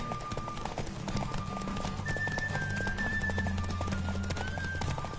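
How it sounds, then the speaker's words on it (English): A horse gallops in The Witcher video game, steady hoofbeats running over a continuous game music and ambience bed, with a brief tone rising partway through. "Don't spare the horse!"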